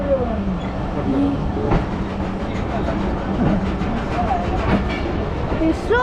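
A passenger train on rails near Lahore rolls along at a steady pace, with continuous rumble, faint clickety-clack and occasional brief squeals, and no talk over it.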